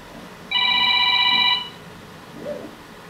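A smartphone rings with an incoming call: a bright electronic ringtone of layered steady tones, clear and close, lasting about a second before cutting off, followed by a faint short sound.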